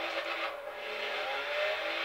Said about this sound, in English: this car has a 2JZ or the 1998 Toyota Supra engine inside it